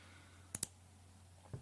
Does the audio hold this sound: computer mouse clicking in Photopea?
yes